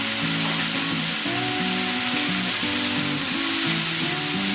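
Spices with salt and turmeric fry lightly in a pan, giving a continuous bright sizzle throughout, with steady background music playing underneath.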